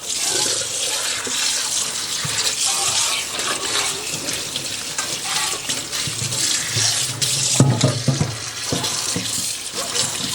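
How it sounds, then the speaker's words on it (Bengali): A tap runs into a sink basin over grated potatoes held in a large strainer as they are washed, a continuous close rush of water with irregular splashes and sloshing as the potatoes are handled. "তো চলুন আমি আগে এটাকে ধুয়ে নিই ভালো করে।"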